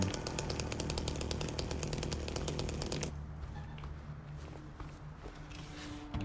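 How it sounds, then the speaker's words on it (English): A chainsaw from the video game Silent Hill 2 rattles loudly in a rapid, buzzing stutter for about three seconds, then cuts away to a quieter, low rumbling game background. "Is it because of the chainsaw?"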